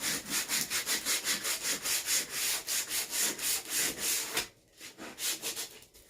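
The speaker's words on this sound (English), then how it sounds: "this helps sand my board too, so it's a little bit smoother" Sandpaper scrubs a wooden board painted with quick-drying Apple Barrel craft paint in fast, rhythmic back-and-forth strokes, close and continuous, with a brief pause before the strokes resume more softly.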